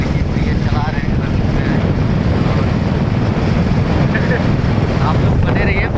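Riding a motorbike produces a loud, constant roar of wind across the microphone and a low engine rumble throughout, with muffled voices partly buried in the noise.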